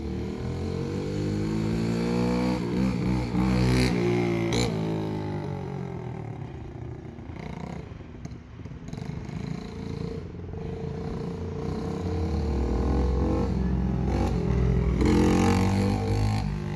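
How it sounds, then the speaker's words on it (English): Mini bike engine revving hard through burnouts, a loud continuous rasping drone that rises and falls in pitch over several seconds, close by with no clear speech. "See the burnouts?"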